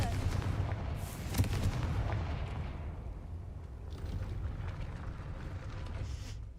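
A Confringo fire spell cast in Hogwarts Legacy, heard as a loud booming blast with a sharp burst near the start, then a sustained rumbling roar that fades slowly.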